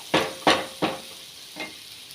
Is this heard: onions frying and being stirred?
yes